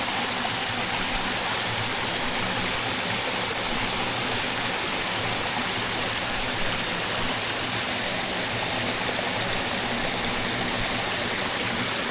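Steady rushing water flowing through a flooded rice field after rain, a constant broadband wash like a small stream, close and unbroken for the whole stretch with no talk.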